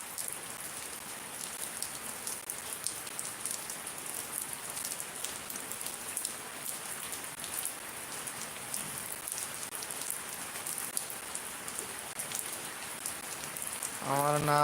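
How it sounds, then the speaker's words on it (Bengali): Continuous rain pattering on surfaces, a soft, even shower of drops that holds steady throughout and swells slightly at the end. "দুই দিনে যেই বৃষ্টি দিছে"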